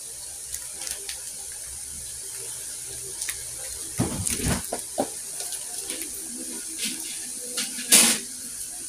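Tap water pours into a container indoors, a steady close splashing hiss with a few louder bursts and clatters, and no talk over it.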